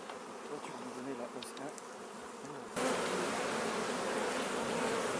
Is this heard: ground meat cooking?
no